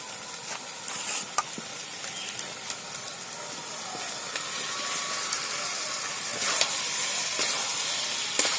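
Jackfruit pieces stirred into spice masala frying in a pan give a steady, bright sizzle and hiss, with scattered sharp scraping clicks of a utensil against the pan.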